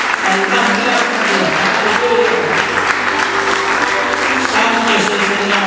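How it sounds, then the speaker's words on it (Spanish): A church congregation claps loudly and steadily at a worship service, a dense wall of applause lasting several seconds with faint voices underneath. "¿Puede rendir usted un aplauso fuerte al Señor? Un aplauso y alabanza al más grande."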